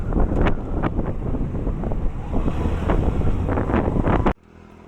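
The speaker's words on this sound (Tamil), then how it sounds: "ஆனால் காற்று ரொம்ப அதிகமாக இருக்கிறனால நம்ம வந்து ரெக்கார்டிங் கம்மியாக தான் பண்ண முடியுது." Strong wind buffets the microphone on a road near Nambiyur during a ride toward Puliampatti, a loud continuous roaring rumble with gusty surges that cuts off abruptly near the end.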